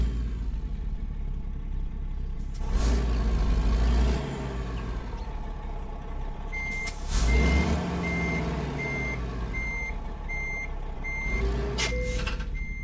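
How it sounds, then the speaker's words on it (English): In American Truck Simulator, a semi truck backs up to hook onto a trailer. A steady reversing beep repeats over a loud idling diesel engine, with throttle surges and a brief hiss of the air brake. "Need to hook my trailer up."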